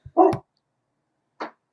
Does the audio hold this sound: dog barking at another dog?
yes